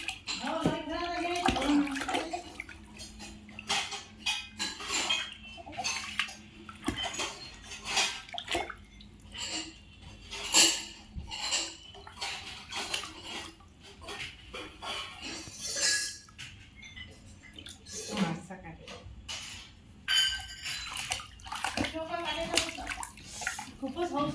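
Water is poured over a baby during a bath at home, intermittent splashes and trickles at close range, with a voice talking softly between pours and a faint clink of a vessel.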